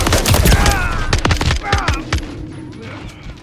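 Rapid bursts of gunfire crack close and loud in a Call of Duty Modern Warfare III campaign firefight, with clustered shots early on and a shouted voice over the shooting.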